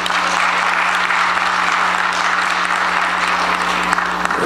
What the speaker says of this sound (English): Can we give Mrs. Chapman a round of applause?